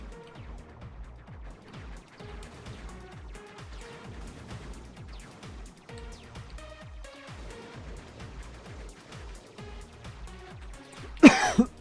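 A person coughs suddenly and loudly near the end, a brief harsh burst that follows a long stretch of busy electronic shoot-'em-up game music and effects.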